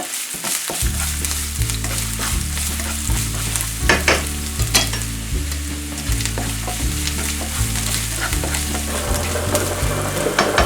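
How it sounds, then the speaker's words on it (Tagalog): Sliced ginger fries loudly in a tablespoon of cooking oil for a beef and asparagus stir fry, a dense close sizzle with sharp crackles and spatters, steady throughout and without any voices. "Let's add some cooking oil. 1 tablespoon lang po. Okay, let's add the ginger."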